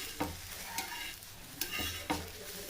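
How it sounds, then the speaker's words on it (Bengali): A spatula scraping and folding patishapta pitha in a frying pan, a few soft scrapes and taps spaced about half a second apart over a faint sizzle, close and quiet. "এবার আলতো করে এবার খুন্তি দিয়ে মুড়ে দেব, পাটিসাপটার মতো করে নেব"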